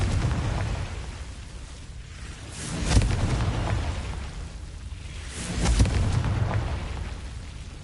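Confringo fire spell blasts in the Hogwarts Legacy game: two heavy, rumbling explosions about three seconds apart, each swelling out of a constant roaring background.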